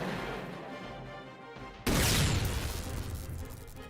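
Halo 4's Lich explosion sound, heard in a Halo 3 mod, hits as a sudden loud crash partway through, followed by a long rumbling, crackling decay over background game noise.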